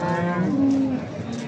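Cattle moo at a livestock market ahead of the Eid sacrifice, one long, loud, close bellow that rises and holds while other animals and background noise continue behind it.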